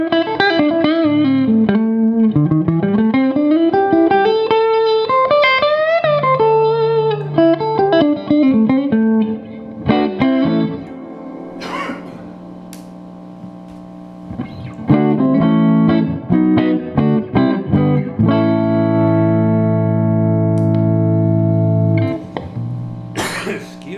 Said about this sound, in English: This amp has a lot of reverb available to it if you really want to get surfy.